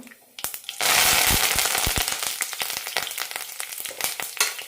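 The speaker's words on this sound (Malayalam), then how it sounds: "കടുക് പൊട്ടാൻ തുടങ്ങുമ്പോൾ കറിവേപ്പില ഇടാം" Mustard seeds crackle and pop in hot oil in a pan with curry leaves added, a loud close sizzle broken by rapid sharp spattering bursts throughout.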